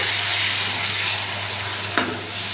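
Potatoes and spice paste sautéing in hot oil give a steady, loud, close sizzle throughout, with a brief scrape or stir near the end and no talking.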